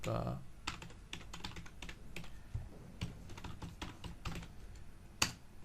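Keys clatter on a computer keyboard during a GeoPandas Python scripting session, a close, steady run of quick uneven taps with one louder keystroke near the end.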